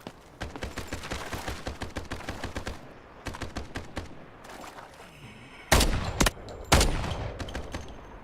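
Rapid automatic gunfire rattles in Delta Force as shots are fired at an alligator, coming in several sharp, evenly spaced bursts, then a couple of louder, heavier blasts near the end.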